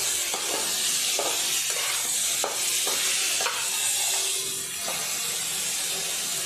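Potatoes and onions fry in a pan and are stirred now and then. A steady close sizzle carries soft scraping strokes of the spatula, and no one speaks.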